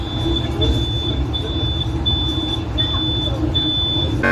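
On a Vande Bharat Express running between Bengaluru and Belagavi, a thin electronic tone beeps at a steady, regular pace over the loud, continuous low rumble of the moving train.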